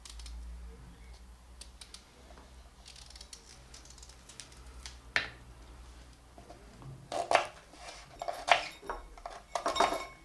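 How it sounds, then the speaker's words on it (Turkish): Sharp, uneven knife taps on a cutting board chopping beetroot, sparse at first and then quicker and louder near the end, with light kitchen background noise. "bir miktarda kırmızı pancar doğrayacağım karışımın içerisine"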